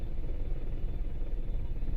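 Steady low rumble of a road traffic jam in Bulandshahr, engines idling in stalled vehicles close by, continuous and fairly quiet with no talk.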